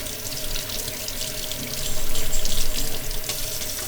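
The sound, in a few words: rinsing filter under hot tap water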